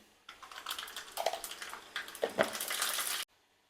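Mustard seeds spluttering and popping in hot coconut oil in a kadai, a dense run of sharp crackles and pops, close and fairly loud, with no talking.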